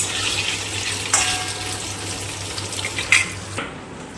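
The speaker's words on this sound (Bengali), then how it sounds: "এবার একটু লাল লাল করে ভেজে নেব" Paneer cubes with a little salt frying in oil in a pan, a steady soft sizzle throughout with a couple of brief clinks before it cuts out near the end.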